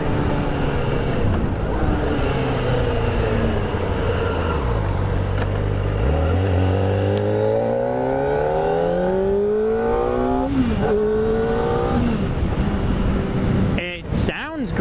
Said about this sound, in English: And the, boy, the sound of this engine is amazing.